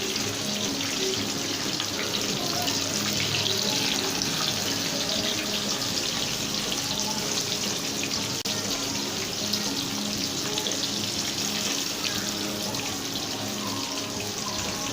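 Peshawari chapli kebab frying in a pan over a low-to-medium flame, giving a steady, continuous sizzling hiss that stays even and close throughout, with no talking.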